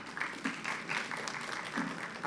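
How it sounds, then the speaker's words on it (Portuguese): Light, distant clapping from a small audience at a book launch event, soft and steady for a couple of seconds. "Uma salva de palmas para o professor."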